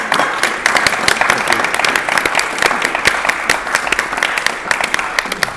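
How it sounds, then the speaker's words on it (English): Dense, steady applause from a TV game show studio audience, many hands clapping together at an even level throughout. "Give him a round of applause."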